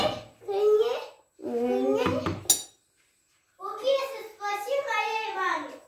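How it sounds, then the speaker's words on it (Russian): Children chatter and babble nearby in a home kitchen while a traditional Dagestani egg dish is being made, their high voices coming in bursts with a brief clink of dishes and a short quiet gap. "Дети у нас шумят, не обращайте внимания."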